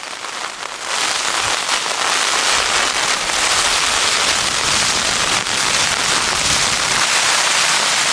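Heavy rain pounds a tent's fabric in a dense, continuous roar, with gusty wind adding hiss and buffeting throughout; loud and close, at a flooded winter camp on Dartmoor.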